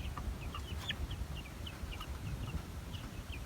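Pearl gray guinea fowl keets about four to five weeks old chirping in a backyard pen, a flurry of short high peeps scattered over a low rustling background.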